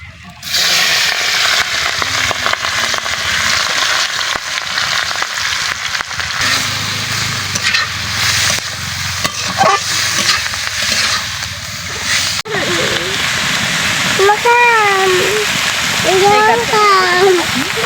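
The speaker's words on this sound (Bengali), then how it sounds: "এখন ঝিনুকগুলো একটু হালকা ভেজে নেব।" Oysters fry lightly in hot oil in a wok, giving a loud, steady crackling sizzle that runs almost the whole time, with faint voices and clatter partly under it near the end.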